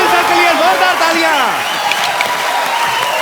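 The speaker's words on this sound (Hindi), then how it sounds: "अनिल सर के लिए जोरदार तालियां" A studio audience on a Hindi comedy talk show claps loudly for actor Anil Kapoor, a thick, continuous wash of applause that runs under voices and sliding vocal tones throughout.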